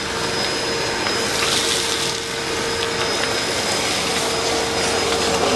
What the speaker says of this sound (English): And it sucked them screws right up too.